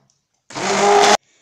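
A short, loud burst of an electric blender whirring for under a second, mixing a lemon juice drink made with water and lemon, starting and stopping sharply with silence around it.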